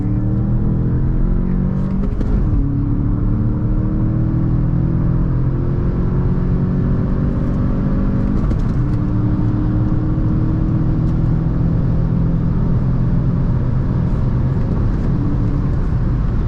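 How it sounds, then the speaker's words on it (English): A 2020 Volkswagen Jetta GLI, front-wheel drive, pulls away hard on the autobahn. A loud, steady engine roar rises through the gears, with the pitch climbing and then dropping at each shift, and no talk over it. "We're just gonna go ahead and accelerate and see what we can do. A little bit of wheel spin there, because it is a front wheel drive, of course."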